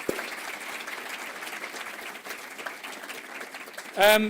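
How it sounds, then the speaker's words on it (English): An audience at a college awards evening gives a steady round of applause, a soft, even patter of many hands that runs throughout before a brief louder burst at the end. "Can you give her a round of applause?"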